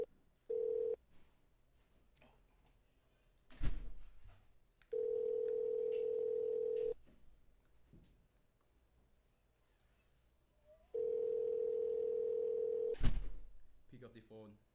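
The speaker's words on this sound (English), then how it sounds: "Now it is dialing." Telephone dial tone sounding in three steady bursts of about two seconds each during an outgoing call, separated by quiet gaps with brief knocks and handling noises.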